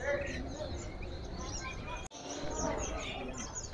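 Canaries for sale at a bird shop chirp and trill in a dense, continuous chorus, steady throughout, with a person talking over the birdsong.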